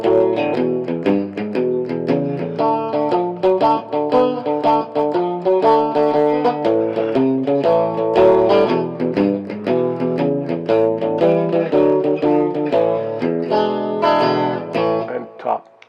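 Blues guitar playing an eight-bar cycle, a busy, continuous run of strummed chords and fills with a slightly distorted, reverberant tone, loud and close with no talking.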